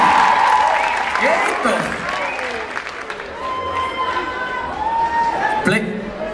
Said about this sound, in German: fetten Applaus für Impact Crew